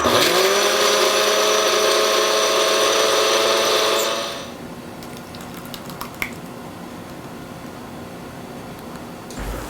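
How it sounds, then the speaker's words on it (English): A blender whirs loudly and steadily for about four seconds blending pizza sauce, then switches off, leaving a quiet room with a few faint clicks. "put it in my blender, blend it till it's smooth"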